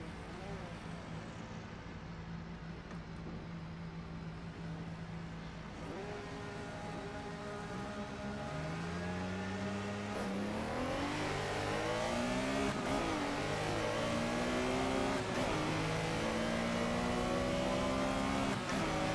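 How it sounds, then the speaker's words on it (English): A GT Legends race car in Assetto Corsa revs hard, its engine note climbing through repeated upshifts as it launches from the start with other cars around, with a voice talking over the engine. "Engine sounds like it's chewing on metal."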